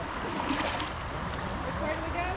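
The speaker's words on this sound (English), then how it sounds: "oh, it is waterfalls" Rushing water of creek rapids heard from a kayak on Talladega Creek, a steady broadband roar filling the clip with no break, close and loud, with a faint voice under it.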